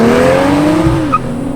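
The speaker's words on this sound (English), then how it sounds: "It kicks you in the back with the launch on this car." Tuned BMW M240i launching with traction control off and spinning tires, a loud engine drone rising in pitch with tire noise underneath, close and continuous.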